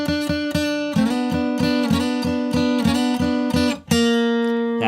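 A blues guitar lick built around the flatted seventh, with a steady stream of plucked notes over a sustained low note in a bouncing rhythm, clear and close with no talking.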